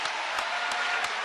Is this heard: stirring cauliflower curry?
no